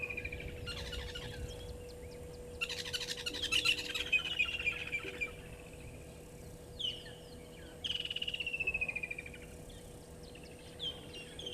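Birds call repeatedly in a natural outdoor setting, with woodland kingfisher among them. Bright chirping trills and descending whistled calls come in several bursts at mid distance over a steady low hum, with no talk.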